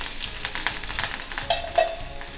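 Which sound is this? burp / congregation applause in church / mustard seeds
mustard seeds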